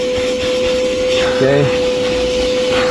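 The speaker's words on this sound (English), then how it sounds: "I'm going to go ahead, vacuum that up." A vacuum cleaner runs with a steady, loud whine while cleaning a car interior during detailing, with a brief spoken word partway through.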